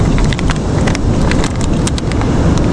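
Steady rain falls outdoors near the water during a fishing trip, a dense continuous hiss close to the microphone with gusty wind noise mixed in.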